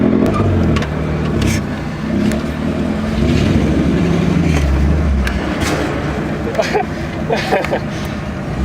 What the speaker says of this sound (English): Just rolling up to a classic car show in our classic cars.